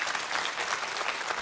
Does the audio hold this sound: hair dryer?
no